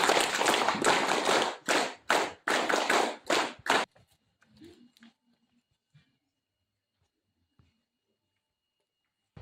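A school group in Meghalaya claps in unison, about ten sharp rhythmic claps over four seconds, followed by near silence with a few faint scattered taps.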